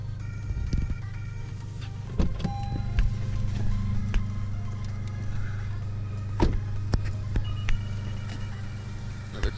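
An approaching car's engine hums steadily nearby with a low rumble, and a few sharp clicks and knocks sound over the continuous idle.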